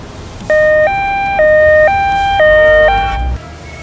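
An ambulance siren blares close and loud in a two-tone hi-lo pattern, alternating pitch steadily for about three seconds before cutting off.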